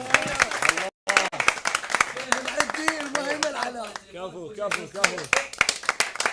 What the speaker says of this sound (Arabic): نريد تصفيق المرتضى محمد ايضا.